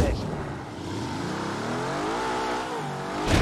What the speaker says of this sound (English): It's time to drive the Aston Martin new car.